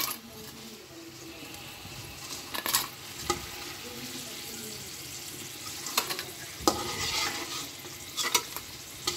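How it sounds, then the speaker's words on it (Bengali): Sweet potato frying in a pan, a soft continuous sizzle with spatula scrapes and occasional louder clatters of stirring, fairly close. "এই তো মিষ্টি আলু ভাজছি"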